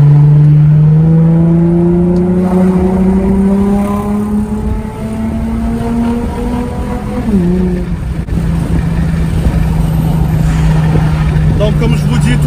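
A car's engine hums steadily while driving through town, its pitch rising gradually before dropping briefly as it shifts, then settling again; someone talks over it throughout.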